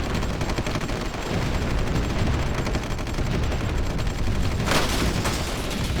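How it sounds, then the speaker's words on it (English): Massive in-game battle in Supreme Ruler Ultimate destroying infrastructure all at once: a dense, continuous roar of rapid gunfire, machine-gun bursts and explosions, loud and sustained, with a brighter burst near the end. "That was the sound of a lot of infrastructure being destroyed all at once."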